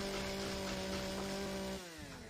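A chainsaw cutting logs in the survival game Empyrion Galactic Survival drones with a steady, loud motor tone that holds for most of the moment, then drops in pitch and eases off near the end.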